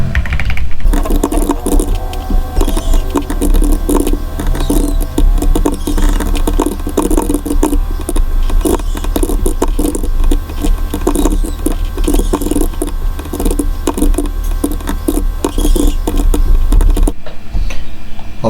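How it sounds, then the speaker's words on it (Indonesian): Rapid continuous clicking of computer keyboard keys as code is typed, dense and close, a steady patter of keystrokes with no speech, stopping abruptly near the end. "Baru kita ketikkan kodenya terlebih dahulu"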